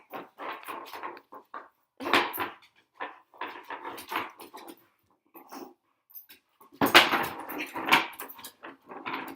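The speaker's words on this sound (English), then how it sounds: "it's my dog trying to get a bone" A dog works at getting a bone indoors, giving bursts of whimpers and eager snuffling, broken by scraping and clattering knocks, close by and alone.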